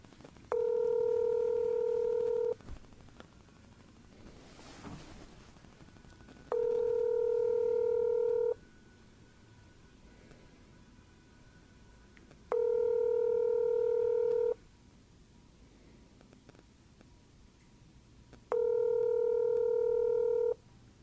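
Four bursts of touch-tone dialing beeps, each about two seconds long, repeating at steady intervals over a faint background hum.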